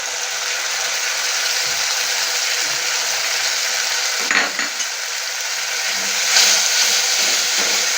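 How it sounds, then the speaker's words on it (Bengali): Poppy seed paste for rui posto, a Bengali fish dish, stirred in a pan, giving a steady broadband scraping and sizzling texture with a couple of sharper clinks partway through. "পোস্তটা দিয়ে একটু কমিয়ে আপনারা হালকা করে নেড়ে ছেড়ে নেবেন"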